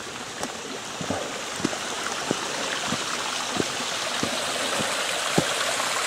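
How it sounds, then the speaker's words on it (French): A small waterfall spills over a little rock ledge beside a slippery forest hiking trail in the Creuse, making a steady close rushing splash with scattered drips and plinks throughout. "dans le coup ça fait comme une petite cascade, vu que sur la droite il y a une petite barre rocheuse"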